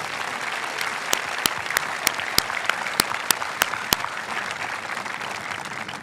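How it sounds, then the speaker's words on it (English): Sustained applause from an audience at the Cinnaminson High School graduation ceremony, a steady wash of clapping with a few sharp, close claps standing out, with no talking over it. "Please join me in a round of applause for the people whose efforts make tonight possible."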